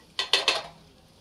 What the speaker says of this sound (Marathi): आता या तळून घेतलेल्या सगळ्या भाज्या याच्यामध्ये टाकून द्यायच्या.